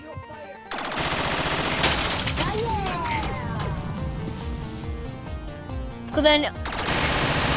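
Gunfire in the VR game Rec Room, with sustained rapid automatic fire rattling on and a sharp crash-like burst near the end, as a voice talks briefly over it.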